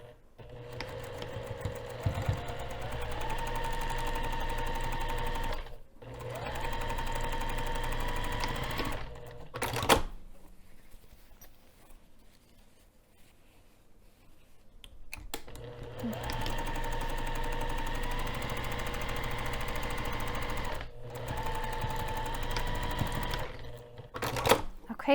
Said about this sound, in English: I'm going to be sewing this side first, then the second side, and then the bottom.